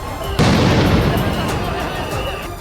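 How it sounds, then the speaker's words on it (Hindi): Police open fire during a street protest, with a sudden loud blast followed by a sustained rumbling, crackling burst of shots and echo that fades slowly. "इसके लिए पुलिस ने कई राउंड गोलियां चलाई।"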